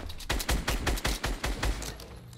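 Enemy gunfire in Fortnite, a quick string of about nine loud, sharp shots in a fairly even rapid rhythm, close and alone without talk.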